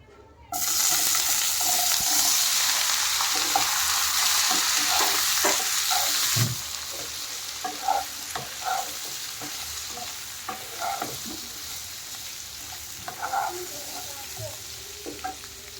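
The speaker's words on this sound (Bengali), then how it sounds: "আলু ভেজে নেব।" Potatoes fry in ghee with chili and black cumin while being stirred in a pan: a loud, steady sizzle that softens after a few seconds into quieter frying broken by scattered stirring clicks and scrapes.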